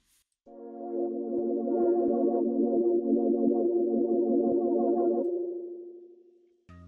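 An analog synth chord from a Kontakt library rings out with reverb from an XY pad effect, holding steadily then fading into a lingering, washed-out tail.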